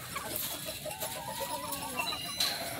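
Gamefowl chickens clucking in a breeding yard, a steady jumble of soft clucks and calls at close range with no talk over them.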